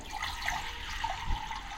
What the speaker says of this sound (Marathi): ही बघा पाणी घ्यायचं आहे